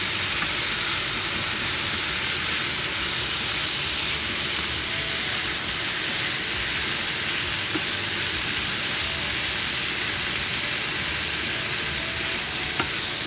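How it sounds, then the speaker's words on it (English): Chicken, bell pepper and onion fry in a pan for fajitas, a loud, steady hissing sizzle that holds close and unbroken for the whole stretch, with faint stirring and no voices. "after a minute of frying up the chicken, I added the bell pepper and onion, and I'm going to just mix it all together"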